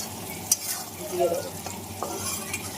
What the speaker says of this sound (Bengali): আমি এখন তেলের মধ্যে পেঁয়াজ ঘি আর আলু ভালো করে ভাজা ভাজা করে দিচ্ছি